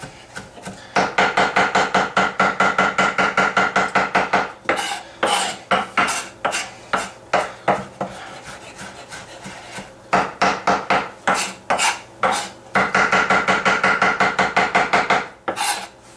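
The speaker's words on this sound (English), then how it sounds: "I'm going to chop this up. Okay? And I'm just going to give this a kind of a rough chop" A knife chops rapidly and roughly through a small head on a wooden cutting board, loud close thuds in quick steady runs with brief pauses between bursts, no voices.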